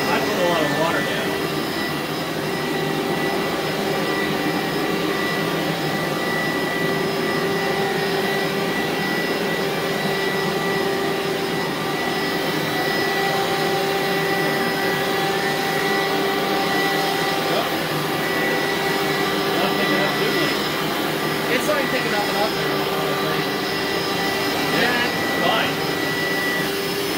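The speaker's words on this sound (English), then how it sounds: "Hoover is picking the water up." A Hoover vacuum sucks up water spilled on the floor, giving a steady, loud, unbroken whine and roar that holds for the whole stretch.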